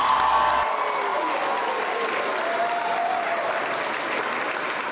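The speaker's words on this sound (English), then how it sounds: "can we get a huge round of applause for our SEVA teachers?" A crowd applauds at an award night honoring teachers, sustained even clapping filling the room from start to finish, with a faint murmur beneath.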